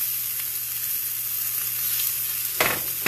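Bacon and maple sausage fry in a pan on a gas stove, giving a steady, close sizzle with a brief louder crackling burst near the end, with no voices.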